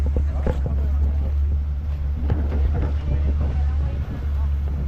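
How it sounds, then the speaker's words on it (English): Steady low motor drone of a pontoon boat cruising on a clear freshwater lagoon, continuous and fairly loud with wind buffeting the microphone throughout. "So we're on a pontoon boat."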